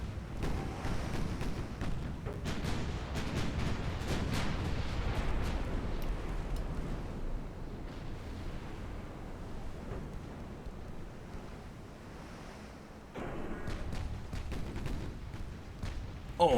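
Six-inch naval guns fire in a strategy game battle, a dense, continuous roll of booming shots and blasts layered over a steady windy rumble, loud throughout with a brief lull before the barrage resumes.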